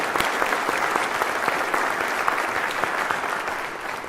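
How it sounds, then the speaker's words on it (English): A church congregation applauds the Catholic school principal during a homily, a dense, steady round of clapping from many hands that holds evenly and tapers slightly at the end. "Give her a round of applause."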